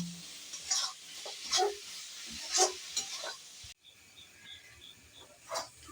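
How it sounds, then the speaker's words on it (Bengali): Shrimp frying in a pan of spices while being stirred, for a stuffed pointed gourd dish: a close, steady sizzle broken by several scraping stirs of a spatula, quieter near the end, with no voices. "চিংড়ি মাছটা একটু ভাজা হয়ে গেছে"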